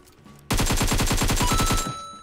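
A UMP submachine gun in PUBG Mobile fires one rapid, evenly spaced burst of about fifteen loud, close shots, then stops and leaves a short ringing tail.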